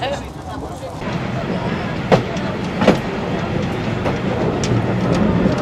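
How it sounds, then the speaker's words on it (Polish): A TY2 series steam locomotive, built in 1944, rolls along with a steady rumbling rattle and a few sharp metallic clacks. People talk over the noise throughout. "to jest parowóz serii TY2 numer 911"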